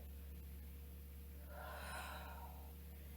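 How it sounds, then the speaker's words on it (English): An open-mouthed exhale during a yoga flow rises out of a quiet, steady background hum, a single soft breathy rush swelling and fading over about a second. "exhaling out of an open mouth"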